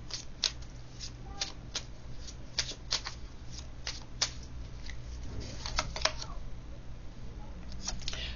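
Tarot cards being shuffled up close produce a rapid series of crisp riffling flutters and slaps, repeating irregularly over a low background hum.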